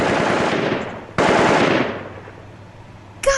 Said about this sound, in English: his stupid fucking fireworks display